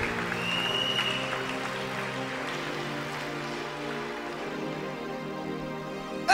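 A church congregation claps and cheers in praise during a worship service, with a dense, steady wash of applause over sustained musical tones for several seconds.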